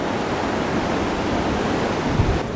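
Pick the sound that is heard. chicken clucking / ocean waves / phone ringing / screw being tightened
ocean waves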